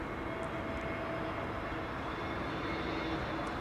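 A Transavia Airbus A321neo airliner passes along Kaagbaan runway 06 at Schiphol, making a steady, unbroken jet roar of broad rushing noise at moderate distance that holds even through the whole stretch, with no voices.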